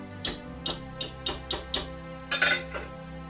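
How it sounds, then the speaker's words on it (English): A metal spoon clinks against the side of a pot of hot cocoa, six or seven light, evenly spaced taps with a slightly louder double knock near the end, close and alone in a quiet room. "Give it a good stir, make sure it's not sticking to the bottom or anything like that."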